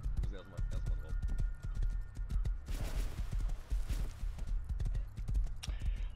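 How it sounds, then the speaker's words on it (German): Horse hooves clip-clopping in the video game Rust, a fast steady rhythm of hoofbeats on the ground, fairly faint under ongoing talk. "Und mit dem Pferd kann ich zu Rumatra kommen."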